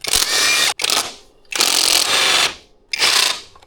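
A ratchet wrench removing engine bolts from a blown 2005 Honda CRF250R motor, with three loud bursts of rapid clicking separated by short pauses, close up.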